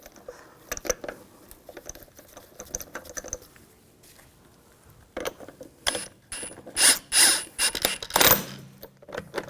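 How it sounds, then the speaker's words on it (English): Lug bolts being threaded and run in by hand on a 2000-2006 BMW X5 front wheel, a series of close mechanical ratcheting and clicking bursts, quiet at first and growing louder and more rapid toward the end, with no talk. "Now install the wheel, get that lined up, and get the lug bolt started."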